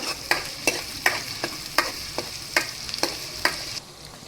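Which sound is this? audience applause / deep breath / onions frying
onions frying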